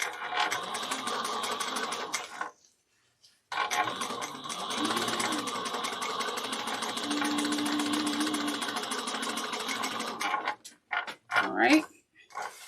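A sewing machine stitches a quarter-inch seam on a bag, running in a steady mechanical whir for most of the stretch after a short burst and a pause, then stopping, followed by a few brief handling noises.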